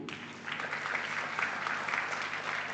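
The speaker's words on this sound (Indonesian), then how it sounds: "Ya, Sinti Simatupang, tepuk tangan dulu." At a Christmas church service, a congregation breaks into steady applause, a dense clapping that holds evenly for a few seconds, moderately distant and fairly soft.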